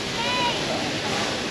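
A waterfall in the Marble Mountains scenery at Da Nang gives a brief, steady rush of falling water, a dense broadband hiss heard from nearby.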